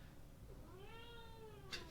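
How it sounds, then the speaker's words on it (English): A cat gives a single drawn-out meow with a rising then falling pitch, fairly clear above a steady background hiss, ending just before a brief rustling burst. "The cats are being so wild today."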